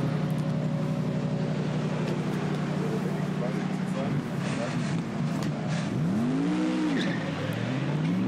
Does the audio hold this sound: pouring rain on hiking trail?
no